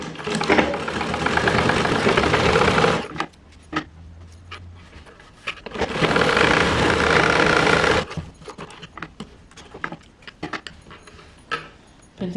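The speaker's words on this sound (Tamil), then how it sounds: "அதுக்காக ப்ரெஸ் தையல் போடுவோம்" A sewing machine runs fast, stitching a blouse in two long loud bursts of about three and two seconds, separated and followed by quieter clicks and handling noises.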